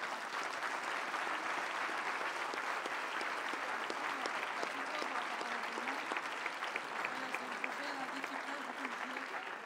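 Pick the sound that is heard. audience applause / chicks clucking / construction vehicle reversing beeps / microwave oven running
audience applause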